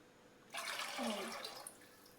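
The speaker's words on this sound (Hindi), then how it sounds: "तो इसमें आप दूध डालते हैं।" Milk poured into a cooking pot for sweet vermicelli, a sudden splashing, gurgling pour that starts crisp and close, then tapers off after about a second.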